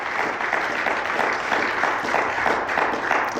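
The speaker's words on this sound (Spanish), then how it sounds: "Fuerte el aplauso al Señor." Sustained applause from a church congregation, a steady wash of many hands clapping together at fairly loud level, without pause.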